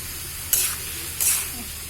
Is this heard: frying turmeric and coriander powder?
yes